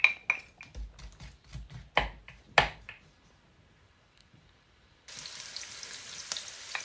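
Sliced onion hits hot oil in a wok, bursting into a steady sizzle after a few seconds of someone talking and a brief quiet pause, then frying continuously and close.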